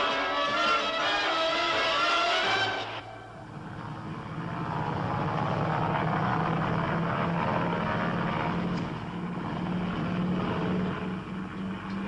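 A helicopter spins up and lifts off, a steady broadband rotor and turbine roar building after a loud burst of music gives way, holding close and strong throughout.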